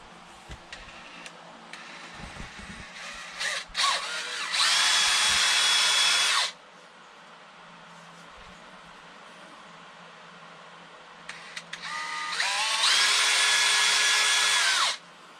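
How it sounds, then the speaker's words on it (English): A cordless power drill boring screw holes while an RV accordion door is installed, two loud sustained whirring runs with a quiet gap between them, close up and with no talk. "we're going to drill a hole in these 3 locations"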